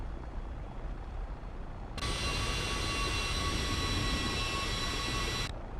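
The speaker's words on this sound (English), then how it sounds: "Okay, thrust reversers work." Thrust reversers on a Carenado Cessna Citation II (S550) in the X-Plane 11 flight simulator: a steady, loud broadband jet roar switches on abruptly and holds evenly over a rumbling low end before cutting off.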